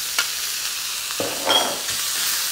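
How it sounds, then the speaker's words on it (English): Bacon hits a hot smoking wok for Japanese fried rice, hissing in a steady close sizzle with a few sharp crackles and spatters, no talking. "Nice smoking wok, bacon in"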